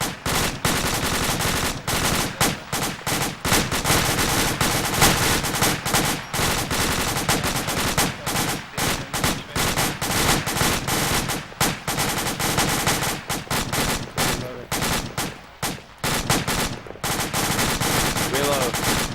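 Sustained automatic gunfire during fireteam drills, loud and close, in rapid bursts with brief gaps, while voices shout over the shooting.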